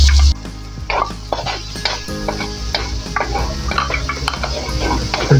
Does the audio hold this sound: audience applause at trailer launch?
no